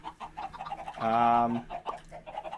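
Minecraft chickens clucking in a natural-style coop in a modded survival game. One drawn-out, tonal squawk stands out in the middle, between softer repeated clucks.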